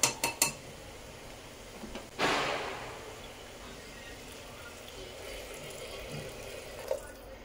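Hot water goes into fried matki (moth beans) in spiced masala in a pan, a short rushing splash and hiss that fades into a quiet simmer, after a few sharp clinks of utensils.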